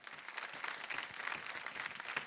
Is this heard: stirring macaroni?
no